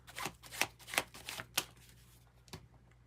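Tarot cards being shuffled close up, a quick run of crisp riffling bursts with a few softer taps trailing off after a pause.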